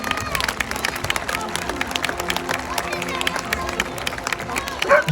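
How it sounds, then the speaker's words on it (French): Audience applause at a fire station open day in Mulhouse after a dog handler demonstration, with lively clapping and crowd murmur and voices mixed in throughout, fairly loud and close. "On peut les applaudir bien fort,"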